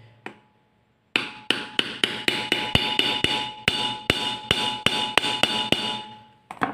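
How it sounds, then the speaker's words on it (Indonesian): A hammer strikes a screwdriver to drive off a motorcycle steering head bearing cup from the triple clamp: a steady run of about fifteen sharp, ringing metallic blows, close and loud, after a single early tap and a short pause. "Kemudian si obeng atasnya kita pukul menggunakan palu ya teman-teman,"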